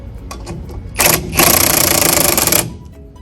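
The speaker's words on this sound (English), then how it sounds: "I don't think we're really supposed to use silver sockets on an impact." An impact wrench drives a silver chrome socket on a wheel of a 1980 GMC Jimmy, with a couple of short taps and then a loud, close rattling burst of hammering that lasts over a second before cutting off.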